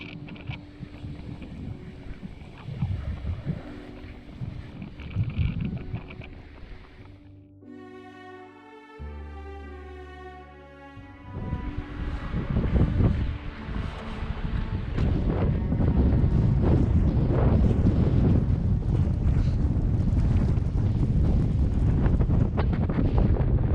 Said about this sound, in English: I'm just taking some shelter here away from the southerly wind